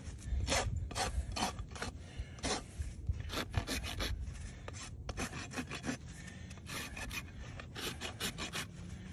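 Rasp filing across a weanling horse's hoof during its first trim, a steady run of rough, scraping strokes close up, each stroke loud and rhythmic, with no talk.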